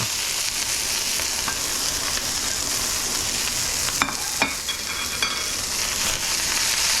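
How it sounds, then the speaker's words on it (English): Bean sprouts and noodles frying in a hot pan for Cantonese soy sauce chow mein, giving a loud, continuous sizzle with a few clatters of stirring and tossing. "now I'm gonna just dump my bean sprouts in here. Dump my noodles on top."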